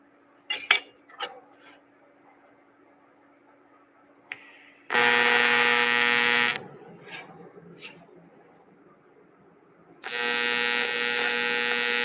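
An Everlast welder tack welding metal gives two loud, steady bursts of harsh arc crackle, each lasting about a second or two, with a few sharp clinks and taps in the quiet between them.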